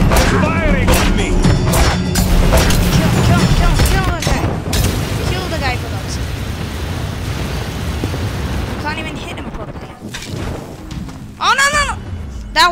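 Rapid gunfire and booming blasts from the video game Paladins fill the scene, dense and loud throughout, with voices talking over the action at times.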